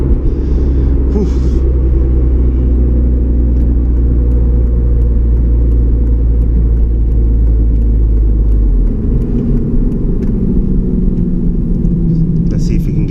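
A 2009 Honda Civic Si accelerates hard with VTEC, its engine giving a loud, steady, rising rumble and whir heard from inside the cabin, ending in a drop as the revs fall near the close.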